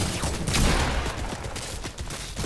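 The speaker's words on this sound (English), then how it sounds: "And then shooting with my AR." AR rifle fire in a video game, a steady stream of fairly loud, close automatic shots mixed with a busy game soundscape, no voices.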